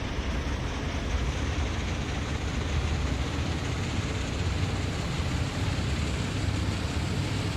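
A freight train in Train Sim World 2 rumbles steadily with its dynamic brake applied, a constant broadband roar holding at even loudness throughout with no breaks or speech.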